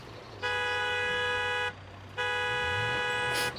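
Car horn in BeamNG.drive sounding twice, each a steady electronic tone of over a second with a short gap between, over a low engine rumble.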